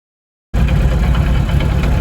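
A Ford Escort Mk2 engine bursts in after half a second of silence and runs steadily with a loud, rough mid-low drone and vibration, the throttle clutch noise blended into the idle, with no voices.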